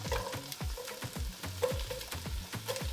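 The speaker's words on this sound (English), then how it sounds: "I'll give what's going on in the pot right now a little stir." Vegetables sauté in a soup pot while a spoon stirs them in a steady rhythm of scraping strokes over a soft sizzle, close and fairly quiet.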